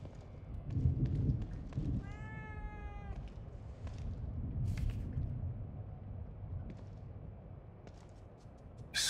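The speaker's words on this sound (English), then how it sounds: "A cat?" A cat in The Evil Within 2 lets out a clear, drawn-out meow with a rising and falling pitch, heard once near the start over a dim, rumbling game ambience.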